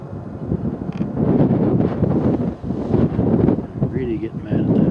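Strong outdoor wind buffets the microphone in loud, uneven rumbling gusts, with a faint distant whine near the end.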